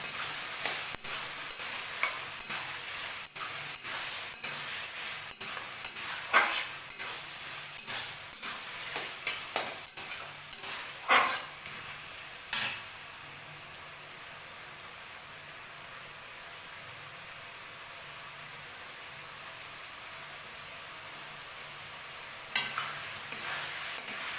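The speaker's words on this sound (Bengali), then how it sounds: "এক বড় চামচের চিলি সস, দিয়ে আবার মশলাটা ভালো করে কষিয়ে দেবো" Spice masala with chilli sauce stir-fried in a pan, a soft continuous sizzle with a quick run of scraping spatula strokes that thin out and stop, leaving a faint steady hiss, close and quiet with no speech.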